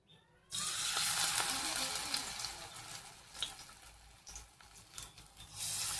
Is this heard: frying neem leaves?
yes